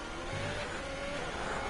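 A race car in a racing video game accelerates down the Abu Dhabi straight, its engine a steady loud drone rising slightly in pitch, continuous and close without any talk.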